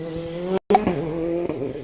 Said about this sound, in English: We have the car rounding the bend.